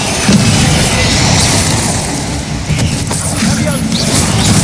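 Loud fiery blasts from a fire spell in the video game Hogwarts Legacy rumble continuously and up close, thick low booms layered with crackling bursts and mechanical clatter, with a faint voice underneath.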